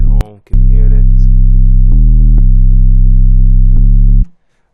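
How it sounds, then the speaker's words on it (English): A looped 808 sine-wave bass plays alone as long sustained low tones, holding one pitch, briefly dropping lower, then returning, with clicky note starts and a short gap near the beginning; loud and clean, stopping abruptly before the end. "You can see it's a looped 808 sine wave."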